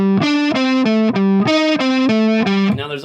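A heavily distorted electric guitar plays a quick pentatonic lick, with sharply articulated, muted notes in a bright, saturated tone, loud and up close without talk.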